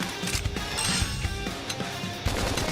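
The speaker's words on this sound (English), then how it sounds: "Try toppling it with gunfire." Gunfire in Xenoblade Chronicles X combat: sharp, irregular cracks and bursts of shots punctuate a busy game soundscape, several impacts spread across a couple of seconds.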